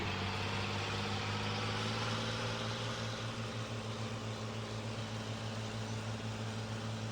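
A large, wide tractor drives in the Farming Simulator 19 game, a steady low engine drone with a constant hum holding evenly from start to finish, no talking over it.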